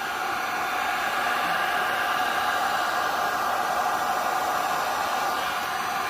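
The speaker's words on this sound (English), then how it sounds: "So I'm going to turn my heat gun on." A heat gun runs on a low heat setting, mostly as a fan, while epoxy is worked on a tumbler: a steady, continuous close whoosh of blowing air that holds level the whole time with no talking.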